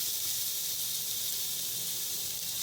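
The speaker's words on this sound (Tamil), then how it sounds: "வெங்காயம் வதக்கி" Onions sautéing in a pan give off an even, continuous hiss and sizzle, steady and close, with no talk over it.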